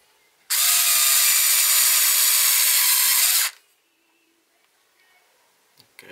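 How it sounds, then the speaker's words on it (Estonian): A power screwdriver drives screws into plastic in one loud, steady whirring burst of about three seconds, followed by near silence with a few faint clicks and handling noises. "Siukse rist kruvimise põhimõttel keerame kõik need kruvid kenasti kinni."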